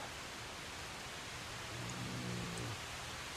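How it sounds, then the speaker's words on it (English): Steady broadband hiss of heavy rain falling in the zombie survival game Project Zomboid, a dense even wash that swells slightly louder partway through with a low hum underneath. "It is starting to rain harder"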